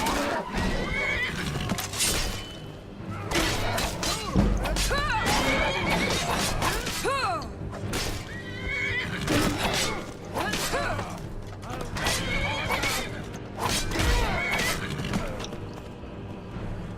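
Repeated horse neighs and whinnies in the video game Skyrim, loud and close, over a busy background of clopping hooves and clattering; a voice speaks briefly at points.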